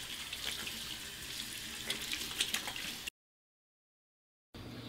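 Water pours steadily from a faucet into a sink during handwashing, a soft continuous splash with slight spatter, then a sudden gap of silence before the running water returns.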